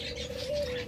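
Pet budgerigars or lovebirds at a caged-bird sale give a brief, close chirping call with a soft cooing tone, heard alone without speech.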